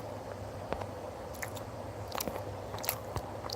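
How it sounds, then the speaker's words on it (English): Someone eats a vegan breakfast wrap up close, with soft, wet bites and chewing that are quiet but steady, plus a few sharper crunchy clicks over a low room hum. "Just finishing off vegan breakfast wrap kind of thing."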